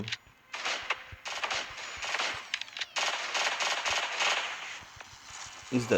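Rapid bursts of automatic gunfire in the video game Cyberika, loud and close, coming in dense rattling volleys with short gaps between them and no clear speech over it.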